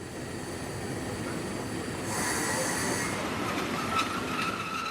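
Trains running on the Regordane railway line in southeastern France, a steady rolling rumble of wheels on track with high squealing tones, moderately loud and continuous, with no talk.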